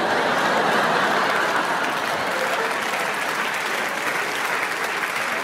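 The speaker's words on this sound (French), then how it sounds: "Comme toi, j'applaudis." Loud, sustained applause from a live audience at a French stand-up comedy show, dense steady clapping that fills the whole stretch with no speech over it.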